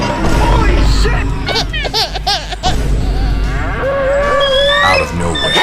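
Cartoon cows and buffalo bellow loudly in an animated fight, several long, wavering moos overlapping one another among clatter and excited voices.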